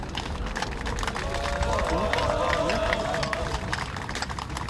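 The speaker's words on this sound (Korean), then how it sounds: "큰 박수와 함께 시작하도록 하겠습니다" A large crowd claps loudly and continuously at an outdoor emergency party meeting in Gwanghwamun, Seoul, with a few overlapping voices calling out over the sustained applause.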